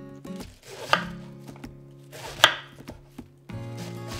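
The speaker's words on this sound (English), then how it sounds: "Discard the thick core of the green cabbage and cut it into thin strips." Knife chopping through green cabbage on a cutting board, cutting it into thin strips for gyoza filling; a few distinct close chops spaced irregularly with soft board knocks between.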